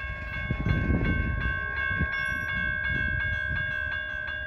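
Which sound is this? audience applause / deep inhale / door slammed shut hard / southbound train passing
southbound train passing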